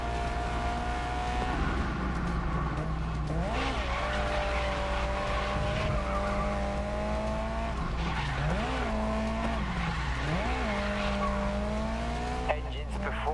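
A race car in Grid Legends revs hard through a corner, its engine pitch swooping up and down while tires squeal and skid, loud and continuous throughout.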